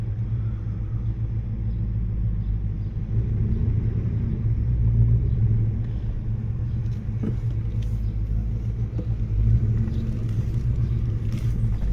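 A Dodge Charger rolls past on a road, heard as a steady low engine rumble and tire roar that stays fairly loud and even throughout, with no voices over it.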